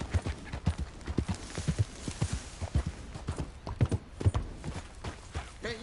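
A horse's hooves clip-clop in a quick, steady rhythm close by in Red Dead Redemption 2, with faint creaks of tack between the hoofbeats and no talk over them.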